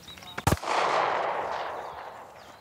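A single loud gunshot at shooting practice cracks close by, followed by a long rolling echo that fades over two seconds, with faint voices beforehand.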